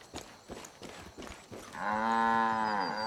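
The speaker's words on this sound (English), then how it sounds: "Oh, hello, cows. Moo, moo." Cows in the video game Far Cry 5 give a long, loud moo with a clear, wavering pitch, after a series of soft rhythmic footfalls and rustling.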